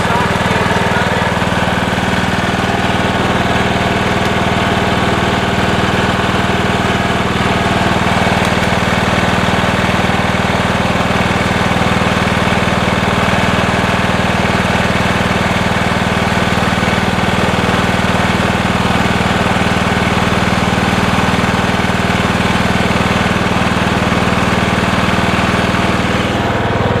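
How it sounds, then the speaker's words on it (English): A John Deere 160 lawn tractor with a Kawasaki engine idles steadily after a cold start, a loud, even mechanical rumble with a slight knocking texture and no pauses. "this is obviously a John Deere 160"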